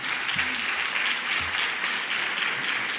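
Applause from the audience at a round-table panel on tourism innovation, a continuous, moderately loud patter of many hands with a couple of low voiced murmurs underneath.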